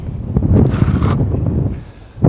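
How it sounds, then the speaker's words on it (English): Wind buffets a microphone outdoors at a concrete slab job site near Stowe, Vermont, loud low gusty rumbling with a brief hissy burst, close and unsteady, no talk. "It's windy out today"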